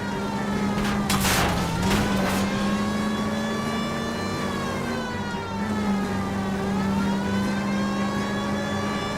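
In an illegal street race in the game L.A. Noire, a car engine drones steadily close by while a police siren wails loudly and continuously over it.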